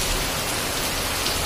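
Heavy rain pours down steadily outdoors, a dense, loud, continuous hiss of drops on surfaces with no voices.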